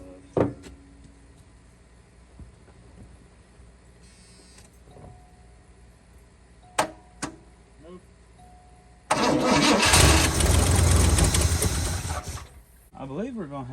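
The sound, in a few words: 1979 Cadillac engine cranking, trying to start after 27 years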